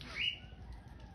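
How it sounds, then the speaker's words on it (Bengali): A pigeon drops down to land with a short, close burst of flapping wings lasting a fraction of a second, followed by a low, steady background rumble. "দেখেন এই যে গলাল কবুতরটা নেমে গেল"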